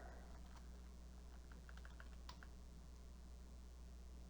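Faint keystrokes on a computer keyboard while editing files for a game mod, a short scattered run of clicks in the middle of a quiet stretch over a steady low hum.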